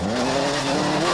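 A Peugeot rally car is driven hard on a stage, its engine straining loudly with a rising, rasping note.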